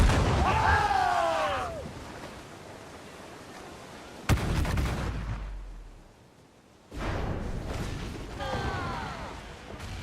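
Ship cannons firing in Assassin's Creed IV: Black Flag, sharp booming blasts that ring out and decay, with a second volley after a short quiet gap, crew voices shouting over the action.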